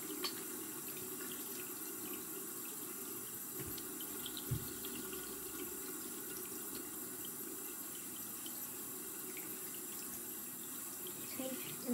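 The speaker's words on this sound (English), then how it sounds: "Put your hands under till they're nice and wet." Tap water running into a sink during handwashing, a steady soft rush that continues the whole time with a couple of faint knocks, fairly quiet and without talk.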